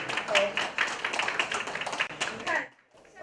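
Audience applause at a restaurant's new-dish launch in Tainan, where a guest chef demonstrates a Korean cheese pork belly dish; steady, dense clapping close by with voices mixed in, stopping abruptly near the end.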